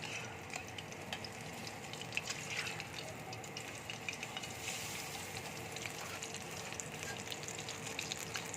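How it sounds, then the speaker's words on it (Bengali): Pieces of bottle gourd filling dipped in gram flour batter fry in hot oil, giving a soft, continuous bubbling sizzle with light crackles, faint and steady, with no talking. "এবার লাউয়ের পুরগুলো আমি বেসনে ডুবিয়ে তেলের মধ্যে ছেড়ে দেবো।"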